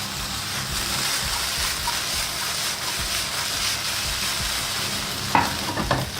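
Onions, garlic and chili peppers sizzle loudly and continuously in a hot pan, a dense close frying hiss with stirring clatter, then a few sharper scrapes at the end.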